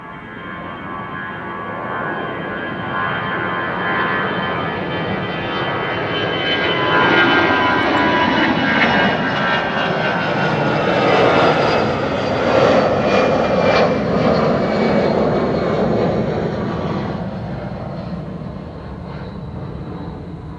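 A departing airliner's engines roar steadily at Amsterdam Schiphol airport on a sunny day, swelling louder as the aircraft passes and then slowly fading, with no talk.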